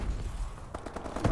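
Rapid gunfire in Call of Duty: Advanced Warfare multiplayer, a short burst of several quick shots close and loud over game background noise.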